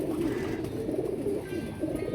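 Pigeons cooing close by in a loft, a steady low murmur of overlapping coos that runs through the whole moment with no talk.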